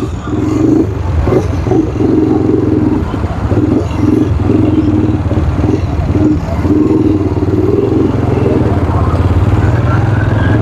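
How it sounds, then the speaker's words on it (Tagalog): Motorcycles and cars crawl through heavy street traffic on Tabora Street in Divisoria, engines idling and revving in a constant dense rumble with clattering close by and faint voices in the mix. "Ayan, hirapan na tayong dumaan kasi ma-traffic."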